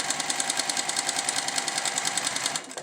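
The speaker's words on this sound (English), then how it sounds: "To sew this seam, you turn it like this, and you have to sew on the inside." A sewing machine stitches the seam of a fabric face mask in a fast, steady mechanical whir with rapid even clatter, loud and close. It slows and stops at the very end, and no one speaks.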